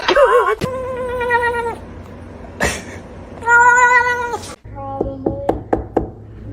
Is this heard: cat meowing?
yes